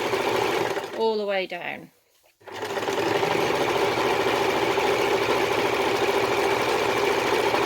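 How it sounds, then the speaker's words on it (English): A sewing machine runs a straight seam along the full length of a fabric dog lead, a steady close mechanical whir broken once by a brief pause, while a person talks over the start. "you're literally just sewing the full length, nice straight line"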